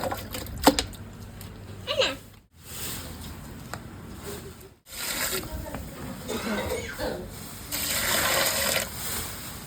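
Running water gushes steadily in an outdoor village setting where chicken fried rice is being prepared, with a cough and people talking over it throughout.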